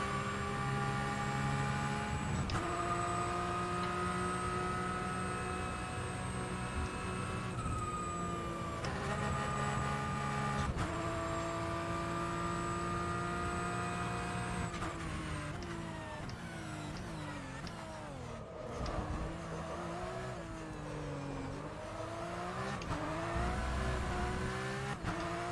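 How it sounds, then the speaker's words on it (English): Porsche 911 Cup race car in rFactor 2 at Spa Francorchamps, engine held against the rev limiter in a steady loud drone with stepped pitch changes through gear shifts, continuous and up close for the whole stretch. "Grinding on the limiter"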